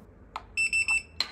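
An RFID electronic lock's alarm gives three quick, evenly spaced high-pitched beeps when opened with an unregistered key, framed by a couple of soft clicks and a sharper click near the end.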